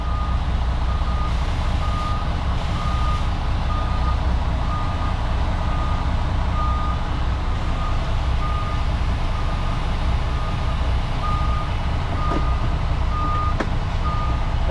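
Idling HGV truck with steady low engine rumble and a repeating reversing beep alarm throughout while the truck is lowered to drop a trailer, with brief air hiss near the end.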